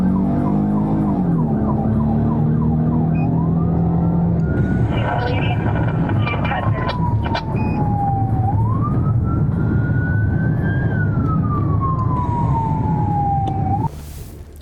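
A police car siren blares as the car reaches a transit center, loud and close, first a rapid yelp, then a long rising and falling wail that runs almost the whole time before cutting off.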